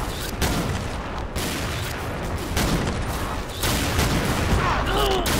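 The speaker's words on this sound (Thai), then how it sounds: "ยิงกันเร็วมากเลย" Rapid gunfire from the shooter game XShot runs as dense, nearly continuous loud bursts that fill the whole stretch with barely a pause.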